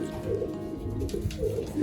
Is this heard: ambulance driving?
no